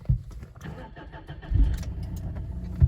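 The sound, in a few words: car engine starting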